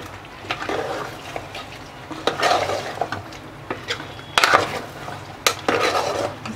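Crushed mawa being stirred into a pot of mutton white biryani, with repeated scraping and clinking of a spoon against the pot in uneven bursts, close by, over a faint background sizzle.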